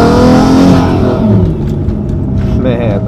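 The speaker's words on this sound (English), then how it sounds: "Let's see if we get some turbo noises." A turbocharged Nissan 350Z with a big turbo accelerates hard, its engine a loud continuous roar with rising and shifting tones and faint turbo whistle, heard from inside the car over a bumpy road.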